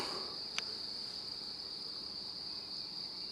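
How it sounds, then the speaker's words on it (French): Insects chirping at night in a continuous steady high-pitched trill, faint and even, with a single brief click near the start and no talking. "il y a aussi les insectes qui font un concert, qui chantent"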